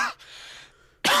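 A single short, close cough with a throaty rasp, followed by a brief pause and another sudden burst.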